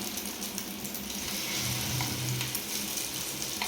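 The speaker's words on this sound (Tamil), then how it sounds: "இப்போ நம்ம அந்த கலக்கி வச்ச முட்டையை எடுத்து ஊற்ற போகிறோம்." Beaten egg hitting hot groundnut oil in a pan, giving a dense, continuous sizzle and crackle that stays close and even for a few seconds, with no voices.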